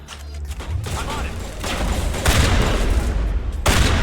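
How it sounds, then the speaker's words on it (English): Gunfire in the Mass Effect video game, a sniper rifle among it: dense, continuous bursts of shots and booming impacts fill the clip, loud and close, with some speech-like sounds mixed in. "I just fired my sniper rifle out"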